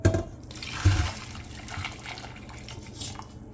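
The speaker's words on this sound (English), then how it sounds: "I'm gonna pour some boiling water on" Boiling water is poured over beef neck in a pot, a splashing gush at the start with a second surge, then a softer steady trickle and wet pouring that fades out.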